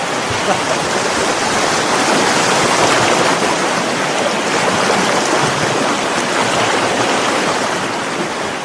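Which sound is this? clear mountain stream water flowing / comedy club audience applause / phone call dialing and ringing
clear mountain stream water flowing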